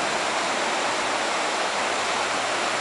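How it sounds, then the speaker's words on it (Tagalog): A river stream flows by a riverbank, a loud, continuous rushing wash of water with no breaks. "dito po kami sa may tabing ilog"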